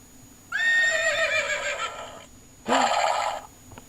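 A recorded horse neigh plays from a toy or device: one long loud whinny with a falling tone, a short pause, then a second shorter whinny, with no talk.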